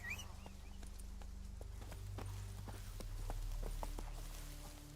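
Roach, a horse in The Witcher 3 video game, clip-clops along at a steady walking pace, hoofbeats spaced evenly over a low continuous ambient hum.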